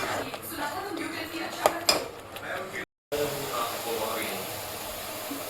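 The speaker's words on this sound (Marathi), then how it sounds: "आता आपण टॅमॅटोची पेस्ट टाकूया." Pots and cutlery clink and scrape as tomato paste goes into a pan of browned masala and gets stirred on the stove, with irregular close metallic knocks and a brief gap midway.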